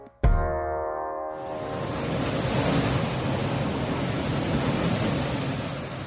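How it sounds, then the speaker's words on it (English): Hurricane Melissa roaring across Jamaica, a loud, unbroken wash of wind and crashing surf that surges steadily after a brief sharp onset, with no voices. "That was the sound of Hurricane Melissa hitting Jamaica yesterday."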